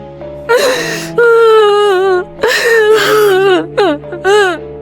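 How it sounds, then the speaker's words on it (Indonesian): Eerie crying sounds in a horror story: several drawn-out, wavering wails and whimpering sobs rise and fall in close, loud bursts with short gasping breaks between them. "dari balik koridor terdengar suara tangisan"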